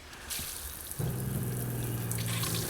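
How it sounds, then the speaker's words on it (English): Water starts running through an Oxygenics Paw Spa pet washer, a faint splash and hiss that swells into a steady gushing flow with a low pump-like hum underneath. "We're going to turn this on and see if we can get some water through it real quick."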